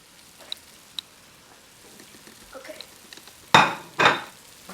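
Sausage pieces dropped into a pot of lentil soup, giving two loud, close wet splashes near the end after a few faint clinks and quiet rustling.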